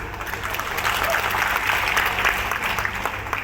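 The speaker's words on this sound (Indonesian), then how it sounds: "Tepuk tangan ya, hebat." Audience applause rings out at a factory groundbreaking ceremony for PT Deli Indonesia, a dense, steady wash of clapping from a sizable crowd that holds evenly throughout with a low background hum beneath.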